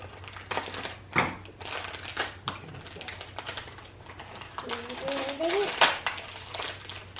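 Scissors snipping and cutting into crinkly plastic Disney blind bag packaging, a series of close, sharp clicks and rustles mixed with a voice and adult talk.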